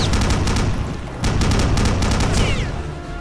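Rapid bursts of loud automatic gunfire in Return to Castle Wolfenstein, dense repeated shots with a brief pause in the middle, booming and close.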